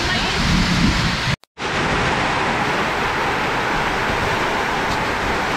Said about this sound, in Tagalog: Grabe itong ulan na to.